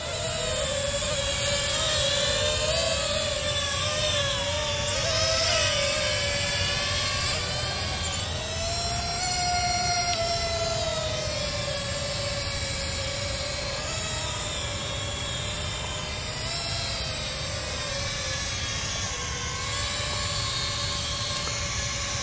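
A SIMTOO Moment selfie drone flies in wind, its propellers giving a steady, loud, high-pitched whine that wavers slightly in pitch as it works against the gusts, continuous throughout with no talking.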